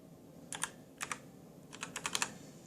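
Typing on a computer keyboard while entering a command for a 6809/6309 machine-language routine: a few separate close key taps, then a quicker run of clicks toward the end over a steady low hum, with no voices.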